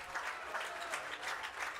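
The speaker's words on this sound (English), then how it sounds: "the crowd here at Bob Wren is on their feet" Crowd at Bob Wren baseball stadium in the ninth inning, standing and applauding, a dense continuous wash of clapping and cheering heard from within the stands.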